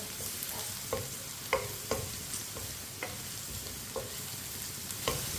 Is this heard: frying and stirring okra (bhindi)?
yes